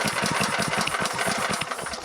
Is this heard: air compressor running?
yes